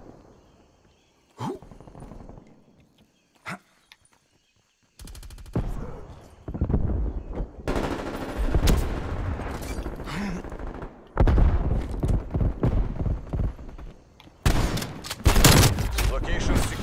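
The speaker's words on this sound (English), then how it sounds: "I'm trying to get headshots with my LMG, so I just keep shooting people in the face" Light machine gun bursts rattle repeatedly in a Cold War shooter game, loud and close, coming in long stretches separated by brief pauses amid battlefield noise and game announcer voices.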